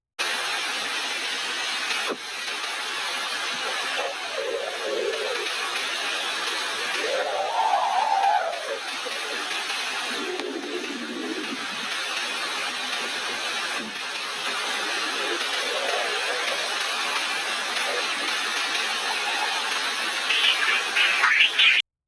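Spacecraft recording of dispersive solar wind waves traveling through solar storms, converted into sound. A continuous hissing, crackling wash with shifting swoops and warbles, steady and fairly loud throughout.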